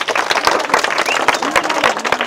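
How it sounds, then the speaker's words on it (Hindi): A crowd watching a street magician's comedy act claps loudly in quick, uneven bursts. The close, sharp handclaps carry on continuously with a faint voice in the background. "एक बार जोरदार ताली"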